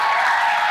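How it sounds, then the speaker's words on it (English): Brief burst of audience applause at a real estate agent conference event, a dense steady wash of clapping that fills the whole short moment. "Can we just give her just a giant round of applause?"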